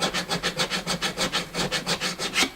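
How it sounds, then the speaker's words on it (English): Diamond-grit files rasp across guitar frets in about a dozen quick, even back-and-forth strokes, a close, steady scraping rhythm with no talk. "these files are fast, man, super fast. They're diamond grit."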